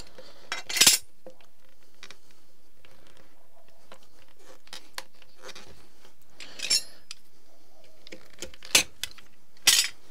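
Large pliers handled during a pool pump replacement give a few sharp metallic clinks and rattles, scattered and brief, against a quiet background.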